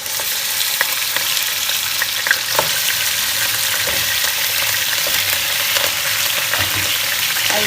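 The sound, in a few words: mutton frying in oil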